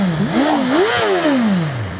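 A BMW S1000RR superbike engine is revved hard on the throttle close by, its loud, rasping note climbing sharply, holding briefly, then falling back as the revs drop.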